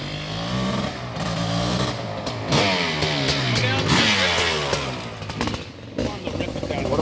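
A Honda CR500R Kaplan America Edition motorcycle engine runs loud and close during tuning, revving up and down repeatedly with rising and falling pitch, while people talk over it.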